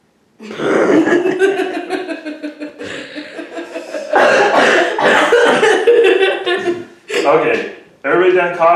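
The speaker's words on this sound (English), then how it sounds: "everybody done coughing? Clear your throat." Several people cough, chuckle and clear their throats in overlapping bursts, loud and close, with brief pauses between.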